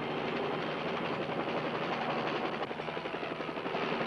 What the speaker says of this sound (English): And he's taking off in his helicopter.